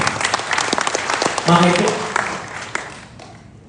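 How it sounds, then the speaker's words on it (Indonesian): A church congregation claps in applause after a sermon, a dense burst of clapping that thins out toward the end, while a preacher speaks briefly over it. "Kita beri tepuk tangan, puji Tuhan."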